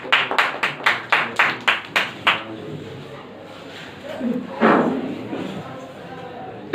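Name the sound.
classroom students clapping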